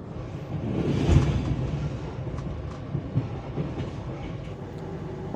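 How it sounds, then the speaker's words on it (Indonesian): The KA Jayakarta passenger train runs on rails at night between Purwokerto and Prupuk stations, a steady rumbling roll heard from inside with faint rhythmic clicks of the wheels. "KA Jayakarta kembali diberangkatkan dari stasiun Purwokerto jam 22 lebih 5 menit"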